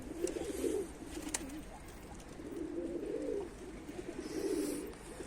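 Mardin pigeons coo in repeated soft, rounded bursts close by, three or four calls spaced through, with a few faint clicks and flutters between them and someone speaking quietly over them.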